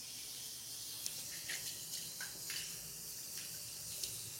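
Water runs steadily from the tap of a Hindware wash basin in a newly built house, giving a soft, continuous hiss with faint splashy flickers and no talk.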